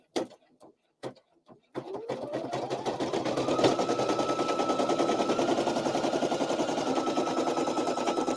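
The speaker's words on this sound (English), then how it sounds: "now it's going to do a placement stitch" A few clicks and knocks come first, then a computerized embroidery machine starts stitching an applique piece. It runs as a steady, rapid, close mechanical chatter that holds evenly to the end.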